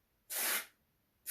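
An aerosol can of snow spray gives one sharp hissing burst about half a second long, then after a short pause a second burst begins, close and loud in a quiet room.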